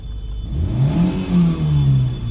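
A car engine revs up sharply as the accelerator is pressed by mistake during a driving lesson, a rising then sustained growl heard from inside the cabin with no talk over it.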